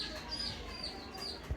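A hen and her chicks cluck softly nearby, with thin high chirps threading over low murmurs and one brief louder bump near the end.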